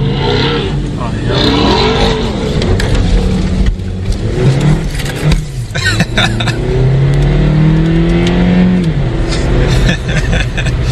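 A 2021 Ram TRX truck launching hard off the line, its engine roaring loudly and climbing in pitch through the gears as people talk over it inside the cab.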